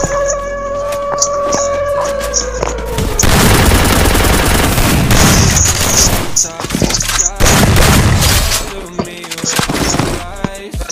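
Bursts of automatic gunfire in a mobile battle-royale shooter, loud rapid volleys breaking out after a few seconds and recurring in dense clusters, with game interface beeps and a voice talking in places.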